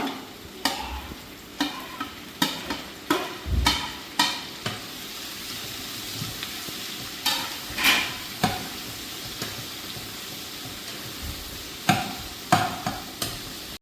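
Onion, tomato and capsicum frying in a pan under a low sizzle, punctuated by a dozen or so sharp spoon-against-pan stirring clacks in an irregular rhythm, close and fairly loud, with no voices.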